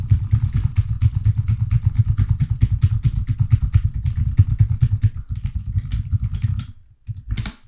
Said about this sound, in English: Holy shit, see how fast I'm typing?